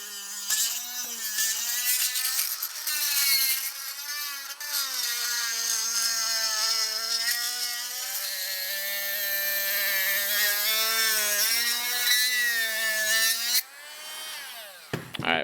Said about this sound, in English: Literally just drill right into it.